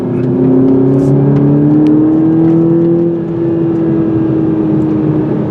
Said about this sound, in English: Wake this engine up.